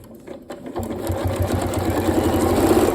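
A Janome Horizon Memory Craft 9480 QC sewing machine quilts along a ruler line, its motor starting up and settling into a steady, rapid, close mechanical hum of stitching.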